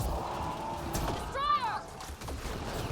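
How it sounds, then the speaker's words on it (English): Ammo reloading in the sci-fi shooter Mass Effect Andromeda: a few quick mechanical clicks and a ratcheting clatter amid game background noise, with a short voiced call in the middle. "Loading ammo!"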